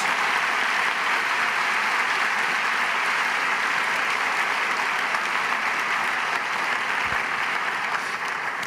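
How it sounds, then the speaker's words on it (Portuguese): A large worship conference crowd applauds in a big hall, continuous dense clapping and cheering at an even level for nearly nine seconds with no talk over it. "aplauda Jesus"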